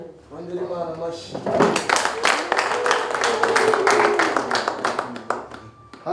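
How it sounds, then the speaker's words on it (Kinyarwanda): Congregation in a Rwandan church bursting into steady rhythmic applause for God after a voice finishes speaking, many hands clapping for several seconds before fading out. "Wongere Imana amashyi."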